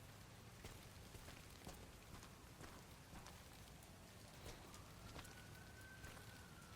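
Steady, faint rain falls on the ground in the Resident Evil Requiem video game, with soft scattered drops over a constant hiss and a distant siren-like tone rising near the end.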